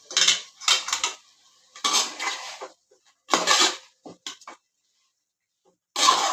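Chicken with pepper and spices is stirred in a pan for a coconut milk chicken dish, giving bursts of metal spoon scraping and clatter with short pauses between strokes, close and fairly loud.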